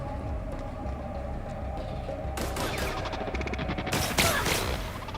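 Gunfire in a combat scene from the video game The Outer Worlds: bursts of rapid shots start partway through and come loud and close. They stack into heavy fusillades toward the end over a steady low background hum.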